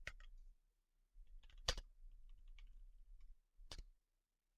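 Keys click on a computer keyboard in a quiet room, a few soft scattered taps with three sharper, louder keystrokes standing out.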